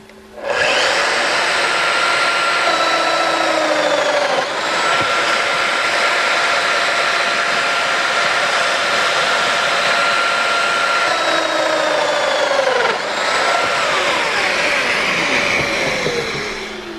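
A Festool Domino XL joiner cuts mortises in a door stile with a loud, sustained high motor whine and cutting buzz. The pitch dips twice as the bit plunges into the wood.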